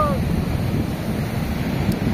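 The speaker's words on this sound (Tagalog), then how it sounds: "grabe ang alon ba. Pang surfing ito eh." Strong surf-sized waves break at a beach resort in Botolan, Zambales, a loud steady wash of surf mixed with wind buffeting the microphone.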